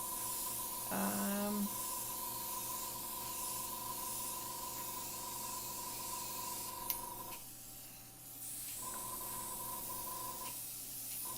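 An airbrush sprays paint onto Pastelmat with a steady, soft hiss. It pauses briefly and then resumes over a quiet background hum, with no voices.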